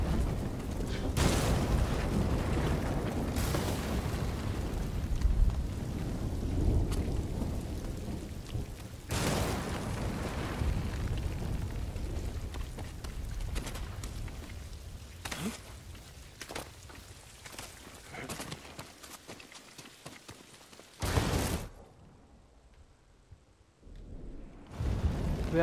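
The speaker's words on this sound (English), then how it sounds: "look at that thunderstorm" A thunderstorm in the video game Ghost of Tsushima: steady rain hisses throughout while several loud thunder cracks and rumbles burst out at irregular intervals, the rain thinning toward the end.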